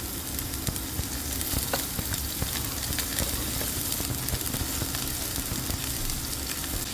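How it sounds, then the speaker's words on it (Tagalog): Onion and garlic sautéing in hot cooking oil in a pan, giving a continuous, fairly loud crackling sizzle with small pops throughout. "Nagpainit ako ng pan and then naglagay ako ng cooking oil. And then mag-isa na tayo ng onion and garlic."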